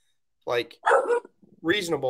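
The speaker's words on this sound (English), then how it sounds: "please excuse the dog." A dog barks a few times in the background of a podcast conversation, its short sharp barks mixed in with ongoing talk.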